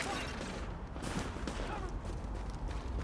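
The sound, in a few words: gunfire in the video game The Division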